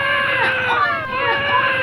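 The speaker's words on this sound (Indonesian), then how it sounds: "terdengar suara jeritan bayi" A newborn baby cries in a shrill, sustained wail whose pitch wavers up and down, loud and close, with no talk over it.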